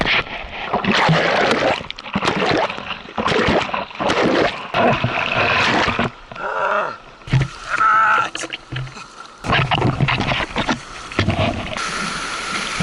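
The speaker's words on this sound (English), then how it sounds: "It's hard to paddle with this thing." Paddling a small boat on water in Sri Lanka gives a series of close, uneven splashes and watery swishes, one after another, with some wind and a little talk mixed in.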